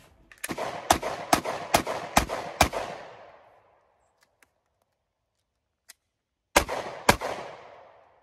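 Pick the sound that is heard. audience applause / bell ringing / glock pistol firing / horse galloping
glock pistol firing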